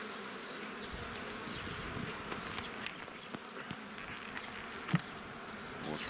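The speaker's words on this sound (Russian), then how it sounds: "Посмотрите, сколько пчелы." Honeybees buzz around an open hive in an apiary during an inspection, a dense, steady hum of many insects close by, with occasional louder passes near the microphone.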